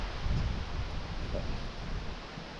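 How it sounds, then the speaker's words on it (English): Wind blowing through an open metal workshop on a smoky day, a steady soft rushing with low rumbling gusts and faint rustle, continuous and fairly quiet throughout. "I do like having the breeze blowing through the shop."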